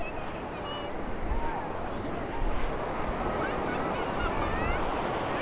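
Surf rolls in at Rishikonda beach in Vizag, a broad wash of breaking waves mixed with gusty wind buffeting the microphone, steady throughout with a brief louder surge midway.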